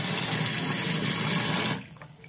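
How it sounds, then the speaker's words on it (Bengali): Cold water poured from a tap onto boiled banana flower in a kitchen, a loud, steady gushing stream that stops abruptly after under two seconds. "মোচাটা সেদ্ধ হয়ে গেছে, এবার আমি নামিয়ে নেব। ঠান্ডা জল দিয়ে দেবো।"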